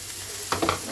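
Avocado pieces frying in a pan with turmeric and salt, a soft steady sizzle with a few brief stirring clatters near the end, close and alone.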